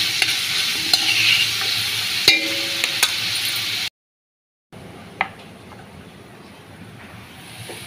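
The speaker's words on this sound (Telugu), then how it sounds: "దీన్ని అయితే బాగా వేయించుకోవాలి." Vegetables for Kuwaiti-style vegetable rice stirred and fried in a pan, a steady bright sizzle broken by sharp spatula clinks, a brief silent gap, then quieter frying resumes.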